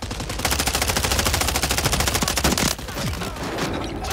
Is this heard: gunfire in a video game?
yes